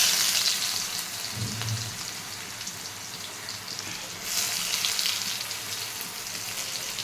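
Nigella seeds and crushed garlic hit smoking-hot oil, giving a close, steady sizzle that swells into a louder burst of frying partway through, with a brief low thump early on and no voices.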